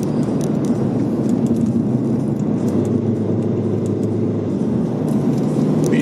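Inside a moving Mercedes A-Class with a sunroof, a constant loud low road-and-engine rumble fills the cabin with a steady hiss of wind above it and a few faint clicks.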